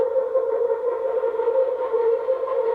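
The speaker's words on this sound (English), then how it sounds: "This is like a guitar thing I played, and I think I reversed it" A sustained, swelling tonal drone with a smeared, backwards-sounding attack, like a reversed guitar chord, steady and moderately loud throughout.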